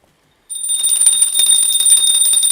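A small hand bell rings during an arati offering at a Hindu darshan. After brief silence it starts with a bright, rapid, continuous jangle that stays loud and close.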